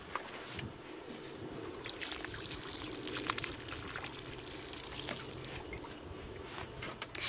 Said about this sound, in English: and then most importantly we must water it